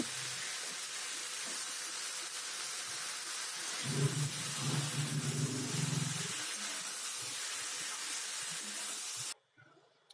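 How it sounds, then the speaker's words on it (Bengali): Pieces of lote fish fry in a pan with onion and garlic, giving a steady close hiss with a low rumble partway through, then cutting off abruptly near the end. No talking. "এখানে পেঁয়াজ আর রসুনটা হালকা ফ্রাই হয়ে গেছে তখন এর মধ্যে মাছগুলোকে দিচ্ছি"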